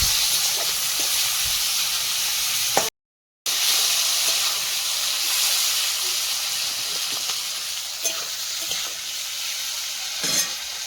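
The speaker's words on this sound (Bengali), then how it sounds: "মাংসের ভিতরে জল ছিল তো ওই জন্য তেলটা খুব গরম হয়ে গেছে।" Meat fries in very hot oil with a loud, continuous hiss and sizzle, broken by a brief silent cut and a few stirring knocks.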